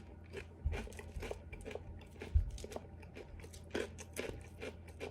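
Dry crunching bites of Kristy Rice Lucky Charms cereal eaten without milk, a quiet series of crisp chewing crunches with a few sharper bites, close to the mouth.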